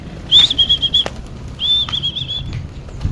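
Tippler pigeons burst into flight with loud, close wing flapping in two quick flurries, accompanied by high whistling wing tones.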